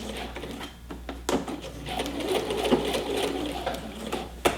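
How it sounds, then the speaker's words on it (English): A sewing machine runs a back stitch on a strap while a zipper goes into the center of a seam, a close, steady mechanical whir with brief pauses and small clicks. "once I get to my dot, I'm going to do another back stitch"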